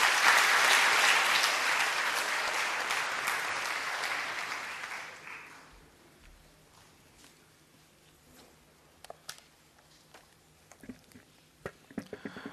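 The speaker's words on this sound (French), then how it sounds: "Sous vos applaudissements, mesdames et messieurs." Audience applause at the inauguration of the Université de Guyane, a full burst of clapping that gradually thins and dies away after about five seconds, leaving a quiet room with a few scattered sounds.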